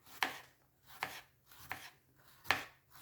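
Knife chopping a red bell pepper in a home kitchen, sliced to be frozen: four crisp, evenly spaced cuts landing on the board, close and alone.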